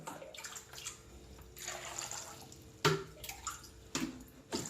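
Water poured over chopped tapioca in a pot, intermittent splashing and trickling pours close by with a few louder bursts, no talk.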